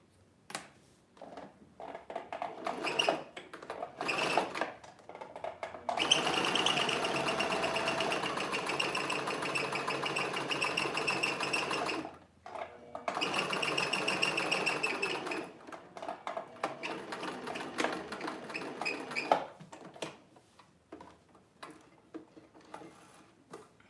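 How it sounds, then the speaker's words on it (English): A sewing machine stitches a dart in T-shirt fabric, running in two sustained bursts with rapid mechanical ticking, separated by quiet gaps with small handling clicks. "So we've got one dart sewn."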